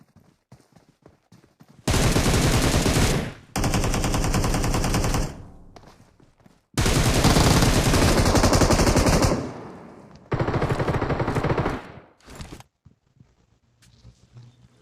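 Automatic gunfire in PUBG Mobile on the Livik map: four long, loud, sustained bursts of rapid shots separated by short gaps, with faint scattered game sounds between them.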